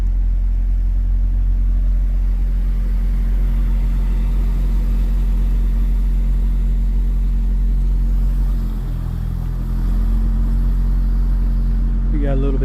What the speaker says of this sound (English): We got a city truck coming in, Sigma.